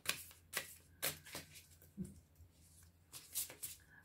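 Tarot cards being shuffled with difficulty in several separate quiet bursts, papery flicks and slaps spaced about half a second apart, close but soft.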